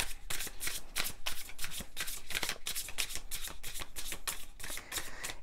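Tarot cards being shuffled steadily and continuously, a close, dense riffling flutter with a regular rhythmic texture throughout and no voice.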